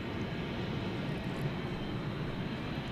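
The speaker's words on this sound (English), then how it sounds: "747 over there. Its lights are a-flashing. It is slowly pushing back." A Boeing 747 airliner slowly pushes back for departure at night at DFW Airport, its engines a steady, distant low roar and broadband rumble that holds even throughout.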